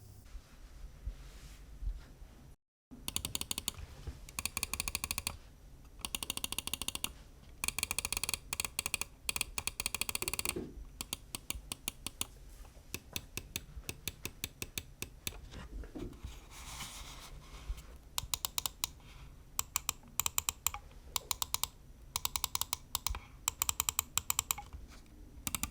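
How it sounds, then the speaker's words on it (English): Lamzu Atlantis gaming mouse with Huano Blue Shell Pink Dot switches clicking sharply and close up, alone, with single clicks and rapid spammed bursts in uneven runs. "Atlantis uses Huano Blue Shell Pink Dot, and I have to say these are one of the best feeling and sounding switches I have ever used."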